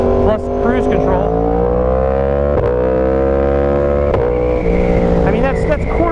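Yamaha R1 sport motorcycle engine revving at quarter throttle, a steady, loud, up-close drone with rising and falling tones and a few sharp blips across the whole stretch.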